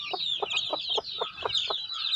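A small, bantam-like black and white hen clucks in a quick series of short, rhythmic clucks close by, over a constant high chorus of chirping in the background.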